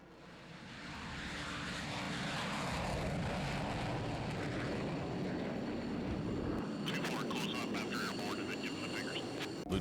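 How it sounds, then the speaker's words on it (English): An F-4 Phantom target drone flies over the Gulf of Mexico, a steady, loud jet engine roar that builds and holds throughout, with faint radio chatter and voices mixed in near the end. "He guides the F-4 Phantom target drone south over the Gulf of Mexico."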